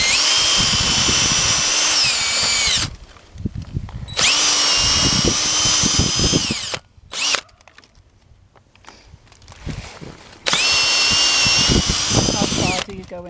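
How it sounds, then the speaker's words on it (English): Power drill fitted with an 8 mm bit boring into a maple tree for sap tapping outdoors on a homestead, whining in three loud sustained bursts separated by pauses, with people talking in between. "It's an 8 mil drill bit, and we will drill into the tree at a slight angle."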